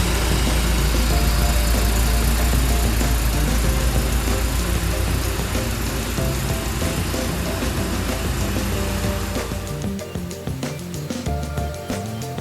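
Nissan 240SX engine idling steadily after restoration with new fuel lines, a loud continuous low rumble with even mechanical texture that thins slightly near the end.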